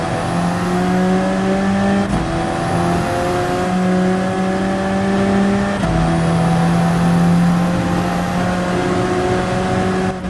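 Racing engines in Gran Turismo 7 at Deep Forest Raceway, an Alfa among the cars, droning loud and continuous with sustained revving tones, two sharp gear-shift breaks and steady pitch climbs, no voices.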